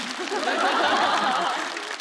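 A live stand-up comedy audience breaks into a brief burst of clapping mixed with chuckles, a dense, close wash of applause lasting about two seconds.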